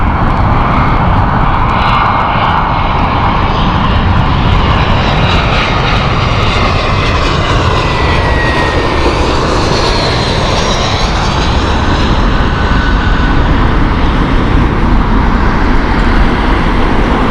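A Singapore Airlines jet lands on runway 27 left at Heathrow Airport, a loud continuous roar of engines and rushing air that holds steady throughout, with no talking.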